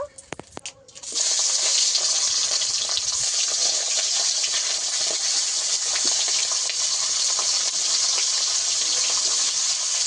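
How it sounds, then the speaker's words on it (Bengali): Hilsa fish heads fry in hot oil in a wok, a loud, steady hiss that starts abruptly after a brief quiet moment and then fills the rest of the clip without letting up. "ইলিশ মাছের মাথাগুলোকে ভেজে নেব।"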